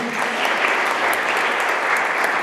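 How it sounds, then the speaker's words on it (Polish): An audience at a guitar music festival bursts into dense, loud applause that carries on evenly for a few seconds with no pause. "mogą być też brawa, bardzo dziękujemy."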